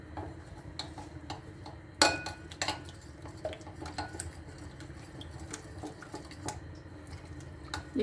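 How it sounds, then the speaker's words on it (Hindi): Cornflour being stirred into a chicken marinade with lemon and vinegar in a bowl, heard as quiet, irregular scraping and clinking of a spoon against the dish with one sharper clink, no talking. "ये कॉर्नफ्लोर अच्छी तरह से मिक्स कर लीजिए।"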